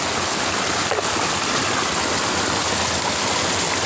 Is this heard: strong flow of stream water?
yes